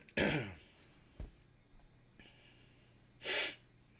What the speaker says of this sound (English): that coughing